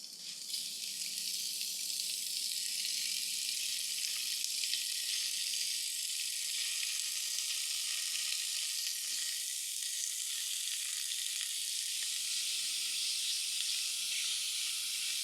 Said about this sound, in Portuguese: Agora eu vou selar tudo isso, refogar tudo isso na panela.